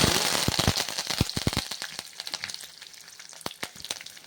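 Curry leaves dropped into hot oil with mustard seeds and urad dal for a Chettinad beans poriyal, bursting into loud popping crackles that thin out to scattered sharp pops over a fading sizzle.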